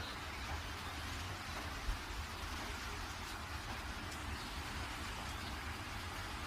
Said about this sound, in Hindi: और बारिश बहुत तेज होती है